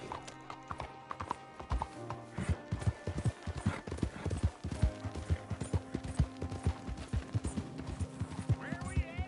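Horse hooves clip-clop at a steady riding rhythm in Red Dead Redemption 2. The hoofbeats are close and distinct, with harness jingles and some talk over them.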